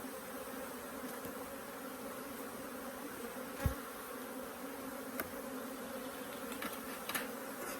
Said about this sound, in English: So there's a lot of bees in here, a lot of bees in the soup.